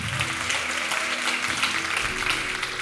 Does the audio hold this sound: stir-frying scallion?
no